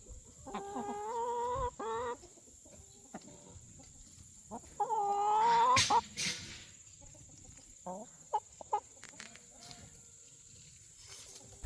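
Backyard chickens cluck and squawk close by in short, irregular bursts, with quieter gaps between calls and faint background noise.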